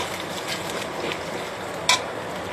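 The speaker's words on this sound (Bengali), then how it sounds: "এবার ডিমগুলো ভেজে নিচ্ছি।" Eggs frying in a pan for a pasta dish, giving a continuous low sizzle with a single sharp clink partway through and no voices.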